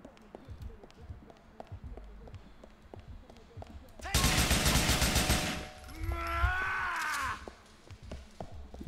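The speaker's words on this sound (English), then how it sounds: "Did put a couple of shots in him." Gunshots crack in Grand Theft Auto IV, a dense rapid burst of automatic fire in the middle after sparse footsteps and movement, with voices and shouting alongside.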